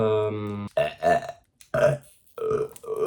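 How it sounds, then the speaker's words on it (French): A loud, drawn-out burp comes first, followed by several shorter, gravelly belches separated by brief silences, all close and prominent. "Moi aussi je rote comme Squeezie"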